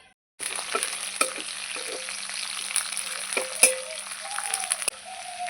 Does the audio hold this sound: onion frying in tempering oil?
yes